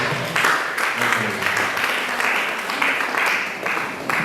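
A conference audience on electoral integrity claps for a speaker from Shell, a loud, full burst of applause with brief swells, with a faint voice under it.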